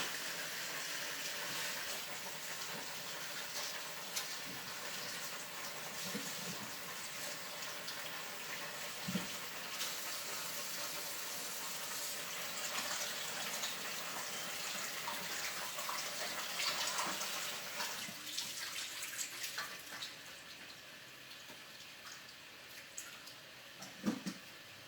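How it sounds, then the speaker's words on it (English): Tap water runs steadily into a kitchen sink as potatoes are rinsed, a continuous soft splashing hiss lasting throughout at moderate distance, tapering slightly near the end. "I'm just gonna give these potatoes another rinse."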